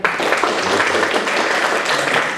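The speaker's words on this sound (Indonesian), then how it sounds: "Sekali lagi yang semangat tepuk tangannya." An audience at a youth event in Yogyakarta, Indonesia claps together in a steady, dense wash of applause that holds evenly throughout, fairly loud and close.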